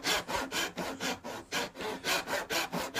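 A hand saw cuts through oak for a hall table in about a dozen quick, even rasping strokes, close and loud with no talk.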